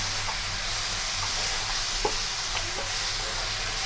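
Fish pieces stirred into a spice mixture in a pan while they cook, a soft steady sizzle with occasional light scrapes and clinks of a spoon.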